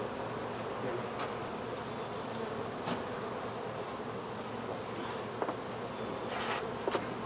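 Honeybees buzzing around an opened hive full of brood, a constant close drone with individual bees flying past the microphone now and then.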